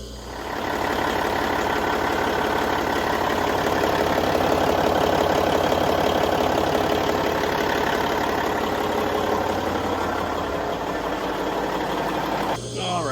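A Caterpillar C18 marine diesel in a boat's engine room starts up and settles into a loud, steady idle, droning continuously at close range.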